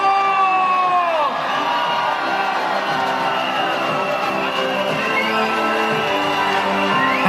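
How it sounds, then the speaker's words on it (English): Residents of Marsiling-Yew Tee at a swearing-in commemoration cheer loudly for Prime Minister Lawrence Wong, a dense, continuous roar of crowd voices with shouts and whoops, including children, throughout. "Please give your warmest big round of applause for our Prime Minister, Lawrence Wong!"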